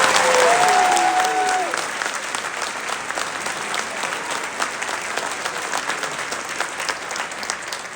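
Sustained audience applause fills a commencement ceremony, dense clapping starting loud and settling to a steady, even roar with a faint voice briefly heard at the start.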